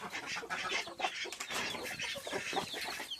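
Newly hatched chicks chirp in a dense, busy chorus of high, overlapping peeps and soft clucking, continuous and fairly close throughout.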